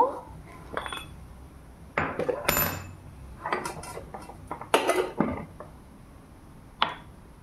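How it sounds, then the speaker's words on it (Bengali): Yellow mustard seeds being pounded in a metal mortar and pestle, giving irregular sharp clinks and grinding knocks at close range, with a quiet stretch between strikes. "এইবার সর্ষেটা আমরা গুঁড়ো করে নেব।"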